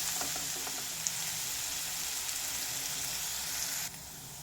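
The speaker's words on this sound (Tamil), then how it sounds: "கொஞ்சம் மஞ்சப்பொடி சேர்த்துட்டு நம்ம ஒரு 2லேருந்து 3 நிமிஷம் வரைக்கும் கொஞ்சமாக வதக்கிக்கலாம்." Pirandai (veld grape) sautéing with turmeric and salt in a pan, giving a soft, even frying hiss with faint occasional stirring ticks that cuts off abruptly near the end, low in level and without speech.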